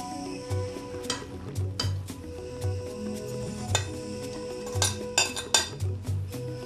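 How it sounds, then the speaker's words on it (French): Onions fry in a pan over low heat, with a quiet, steady sizzle beneath repeated close clinks and scrapes of a utensil stirring against the pan. "il faut laisser griller les oignons"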